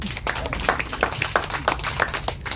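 Small audience at an urban farming class on coffee-ground compost clapping, a short burst of fairly close, scattered handclaps.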